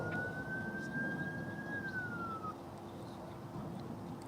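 An emergency vehicle siren at an airport, a single faint rising-then-falling wail heard at a distance over a low steady background rumble, then only the rumble remains.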